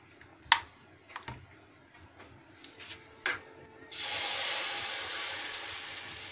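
A gas stove under a dosa tawa is turned up high: a few faint clicks and taps, then the flame suddenly roars into a steady, close breathy hiss that holds to the end.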